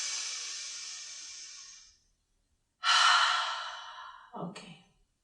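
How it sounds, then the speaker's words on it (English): A person in a yoga class breathes out in long, close exhales, two sustained airy breaths separated by a brief pause and followed by a shorter breath. "Nice big exhale."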